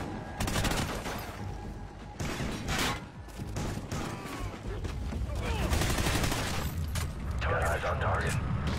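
Gunfire from the Call of Duty: Ghosts video game, with sustained bursts of automatic fire and heavy shots continuing throughout, under game voices.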